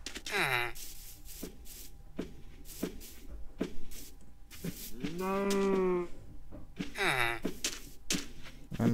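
A blocky Minecraft cow lows in a bleating, nasal call near a fenced village, with sharp game clicks and thumps around it and other animal calls at the start and end.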